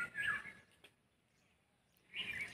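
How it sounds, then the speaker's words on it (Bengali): Birds calling among the trees of a quiet park, two short bright chirping bursts at the start and end with near silence between, fairly close and faint. "পাখি পুরো ডাকছে"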